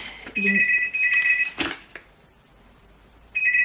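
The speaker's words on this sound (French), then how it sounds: "le téléphone a arrêté de sonner" A telephone rings in short electronic bursts with a pause between them, heard under talking in a room, with a brief clatter in the middle.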